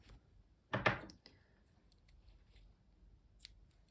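Embroidery scissors trim the loose end of a thread with one crisp close snip, followed by faint handling clicks in a quiet room.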